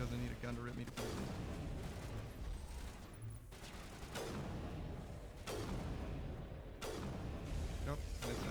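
Gunfire in the video game Mass Effect: repeated loud bursts of shooting with heavy booms arriving roughly every couple of seconds, layered over dense mechanical combat noise.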